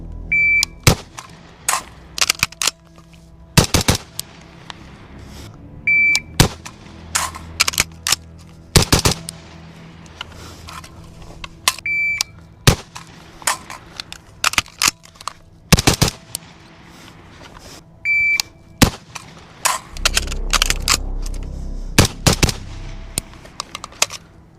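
Sharp, loud gunshots from a Centurion Arms 11.5-inch FBI AR-15 rifle, fired in short spaced strings of a few rounds each with quiet gaps between, heard close at a shooting range.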